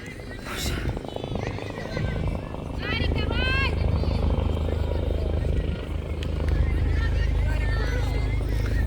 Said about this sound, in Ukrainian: Що вертольот над нами крутиться над полем?